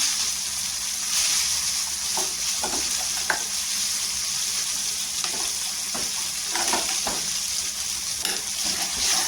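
Onion-coconut masala sautéing in oil for a spicy crab curry, a continuous close sizzle broken by scraping stirs and sharp spatters, with no voices.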